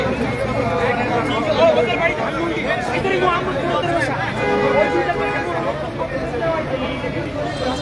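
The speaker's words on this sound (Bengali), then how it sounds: "তাকে দেখার জন্য তার যে সকল শুভাকাঙ্ক্ষী যারা রয়েছে তারা আসলে ভিড় জমাচ্ছে সেই সামনে" Crowd of well-wishers gathering outside Dhaka Medical College Hospital, where a man with gunshot wounds has been brought, makes a steady dense murmur of many overlapping voices with continuous busy chatter, fairly close and unbroken.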